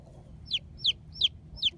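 A backyard hen sits with her baby chickens inside a coop, giving four evenly spaced, close, sharp high chirping calls over a low background murmur.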